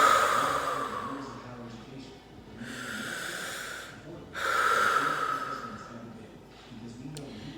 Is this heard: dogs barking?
no